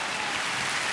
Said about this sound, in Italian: Il primo applauso forte va alla chitarra.